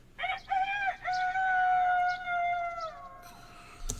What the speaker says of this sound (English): I don't ever want to hear another rooster.